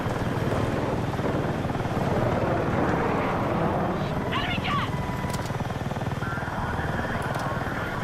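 Helicopter flying low in Battlefield: a steady, loud rotor thump and engine drone run continuously, with people talking over it and brief higher electronic tones partway through.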